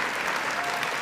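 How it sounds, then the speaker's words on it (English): An awards audience in Kenosha claps for past lifetime women-of-influence winners: a brief, dense wash of many hands, steady and moderately distant, with no voices above it. "Let's give these women a round of applause"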